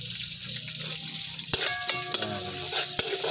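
Onions and ginger stir-frying in a pan, a bright steady sizzle with several sharp clinks of a utensil scraping and stirring partway through.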